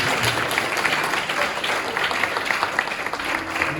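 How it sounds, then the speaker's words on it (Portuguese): A church congregation claps steadily and densely, a continuous wash of applause from many hands, fairly close and with no pauses. "Uma salva de palmas glorifica o Senhor."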